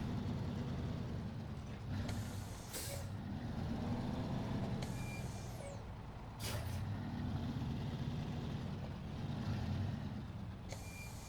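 Heavy truck reversing to hitch onto a mammoth trailer in SnowRunner, a steady low diesel rumble throughout with sharp air-brake hisses near three, six-and-a-half and eleven seconds and faint repeated reversing beeps.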